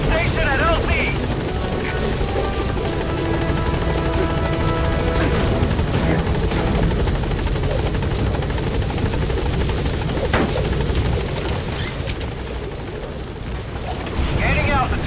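The B-Quad helicopter in Metal Gear Solid V: The Phantom Pain arrives at a landing zone, a loud constant rotor roar and whine with wind-like rushing that fills the whole stretch without easing.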